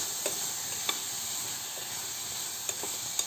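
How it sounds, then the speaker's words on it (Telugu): Carrots and beans frying with masala for upma, a steady hiss and sizzle in the pan with a few sharp spoon taps against the vessel, close and continuous. "కాసేపు ఈ మసాలాతోనే దీన్నే ఫ్రై అయ్యేంతవరకు ఫ్రై చేసుకుందామండి."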